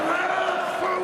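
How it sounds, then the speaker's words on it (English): A darts arena crowd at a Champions League of Darts quarter-final chants a player's name in unison, a loud, sustained sung roar with a commentator's voice over it. "the crowd starts singing his name"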